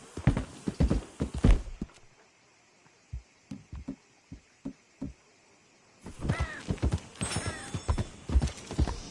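Horse hooves clip-clopping at a steady gallop in Red Dead Redemption 2, bursts of hoofbeats punctuating a humming game soundscape, with louder busy passages at the start and end.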